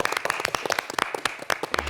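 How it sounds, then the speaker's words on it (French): Studio audience on a French TV talk show applauding, a brief burst of brisk, uneven hand claps close to the microphone. "Mais vous n'applaudissez pas bien."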